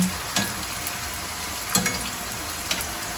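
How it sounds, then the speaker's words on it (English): Steady crackling sizzle of corn taco shells frying in hot oil, fairly close, with a few soft clicks and taps breaking through the continuous hiss. "While it's frying"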